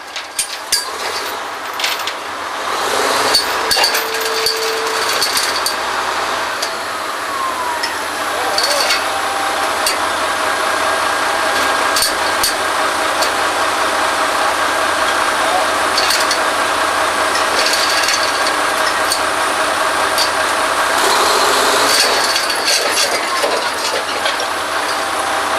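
Drill pipe is screwed into the drill string on a historical kelly drilling rig, heard as a steady, loud mechanical whir with metallic clinks and ratcheting over an engine drone.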